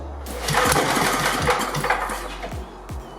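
A 1988 8hp Briggs and Stratton Sno-Guard snowblower engine being pull-started, several quick rattling cranking bursts from the recoil pull, close and repeated in a rough rhythm, no talking.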